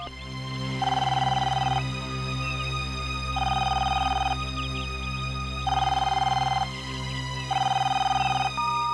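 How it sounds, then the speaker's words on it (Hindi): An outgoing telephone call rings back through the handset in four evenly spaced tonal bursts separated by short pauses, clear and steady over a low constant background hum, with no voices. "एक मिनट, मैं मैम को फोन मिलाता हूँ"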